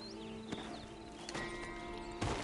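Horse hooves in the video game Red Dead Redemption 2 clip-clop in a quick, uneven rhythm, with a few sharper thuds standing out over a steady background hum.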